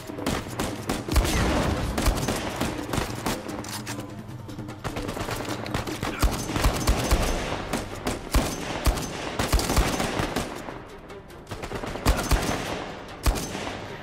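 Sustained gunfire from a rifle in Uncharted 4, rapid bursts and single cracks hammering nearly nonstop over a low rumbling game backdrop, loud and close throughout.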